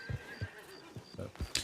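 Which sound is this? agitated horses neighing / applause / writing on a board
agitated horses neighing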